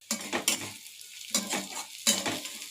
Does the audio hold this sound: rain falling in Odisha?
no